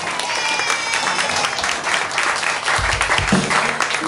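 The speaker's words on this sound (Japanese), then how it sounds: "拍手。" Audience at a band session clapping continuously, dense, even applause close by, with a voice briefly mixed in.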